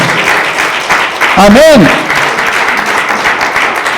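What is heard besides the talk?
congregation applauding in church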